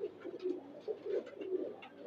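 Breeding pigeons cooing close by, soft repeated low throaty coos rising and falling in a steady rhythm across the whole stretch, with no talk over them.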